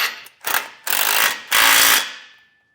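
A ratchet wrench with a 3/4 socket snugging down base plate hardware, three bursts of rapid metallic clicking, each longer than the last, loud and close, with no talk.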